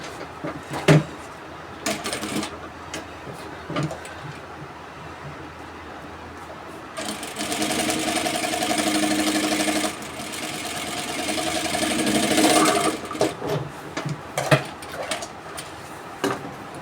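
A sewing machine runs close by as it stitches a side pocket in two sustained bursts of steady mechanical whirring, with handling knocks and clicks before and after.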